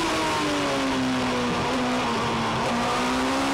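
A race car on the Kirkistown circuit heard from on board while cornering during a Sevens Challenge race, its engine a loud, sustained droning whine that dips slightly through the bend, with no talk.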